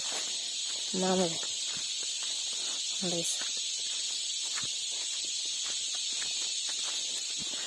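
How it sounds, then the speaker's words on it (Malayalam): Crickets chirp steadily in the background outdoors on a farm plot, a constant faint high buzz beneath occasional brief calls and a voice. "ബാക്ക്ഗ്രൗണ്ടിൽ മൊത്തം ചീവീട് കരയുന്ന സൗണ്ടാണ്"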